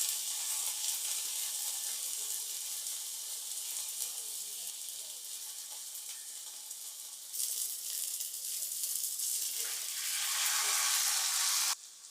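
Bread spread with masala and oil toasting in a hot pan gives a continuous bright sizzle and hiss throughout, close and fairly loud, with a brief shift partway and a sudden stop at the end, no speech.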